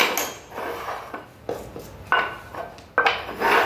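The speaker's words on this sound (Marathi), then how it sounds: "होस्टनी सगळ्या हे बाउल मिक्स करून घ्यायचे आहेत" Several stacked bowls clatter and scrape against each other as a host shuffles them around during a kitty party luck game, with irregular knocks and rubbing close by and no talking.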